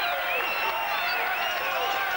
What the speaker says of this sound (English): It's a nice hand from the crowd